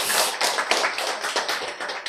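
Audience clapping during a Korean health lecture, a dense, steady patter of many hands close by that fills the whole stretch without a voice over it.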